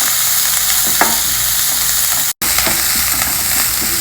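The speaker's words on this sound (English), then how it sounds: "Lightly fry everything well together." Onion, green chilli, curry leaves and coriander leaves frying in a pan, a steady loud sizzle with occasional stirring clicks and scrapes, no talking.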